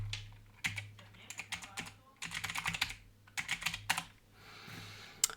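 Close-up typing on a computer keyboard, with irregular bursts of rapid key clicks separated by short pauses over a low steady hum.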